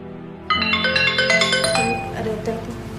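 A phone ringtone sounds for an incoming call in an Indonesian TV drama, a loud bright melodic tone starting abruptly and repeating its chiming pattern over faint background music.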